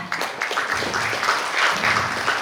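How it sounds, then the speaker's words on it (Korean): Audience applause welcoming a keynote speaker onto the stage at a cloud and SaaS forum in Korea, a moderate, steady patter of many hands clapping alone for a couple of seconds. "큰 박수로 환영해 주시기 바랍니다"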